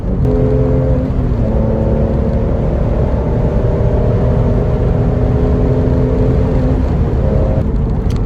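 A Porsche 911 (996) with an FD Motorsports Fister aftermarket exhaust drones loudly and steadily close by on a highway, its exhaust note holding a low rumbling tone with a slight rise in pitch as it accelerates.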